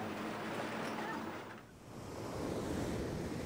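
Ocean waves surge and wash in at Juhu Beach in Bombay, with a sea breeze buffeting the microphone; a steady broad roar dips briefly, then swells back louder.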